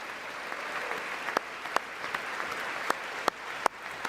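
Applause at a State of the Union address rises steadily from a large chamber audience, with scattered sharp claps and a few whoops standing out, no speech over it.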